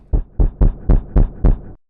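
Dry kick drum hits recorded in a production session with the reverb tail cut, six deep thumps in a steady even rhythm, loud and close, heard alone.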